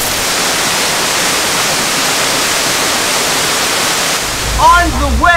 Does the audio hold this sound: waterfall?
yes